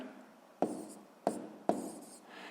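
A fraction is written by hand on paper: three sharp, close scratchy strokes land at uneven intervals, each fading quickly into a faint background hush, with no talking.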